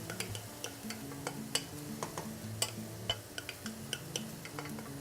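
A spoon stirs cooked quinoa into a sauteed vegetable mixture in a pan, soft scraping and light clicks repeating steadily under a faint sizzle, close and fairly quiet.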